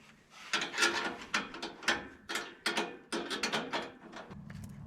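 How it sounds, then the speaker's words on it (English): A hand ratchet cranks down the bolts holding a fuel tank in a car, giving quiet, close clicking strokes in short repeated bursts with brief pauses between pulls. "Tighten up these bolts just under good and tight."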